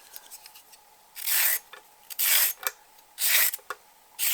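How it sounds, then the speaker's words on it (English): A carrot is peeled for fish and chips, giving four loud raspy scraping strokes in a steady rhythm, each about half a second long, with quieter scraping between them, close up and with no talking. "We're going to take one carrot, we're going to peel it off"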